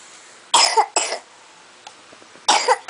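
A child coughs in three short bursts, two close together then another after a pause, near and fairly loud with quiet between.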